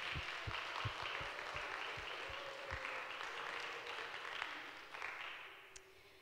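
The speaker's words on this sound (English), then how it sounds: "a big hand of applause for these young people" Audience applause for college students at a church service, a soft, distant wash of many hands clapping with a few sharper low thumps near the start, gradually fading.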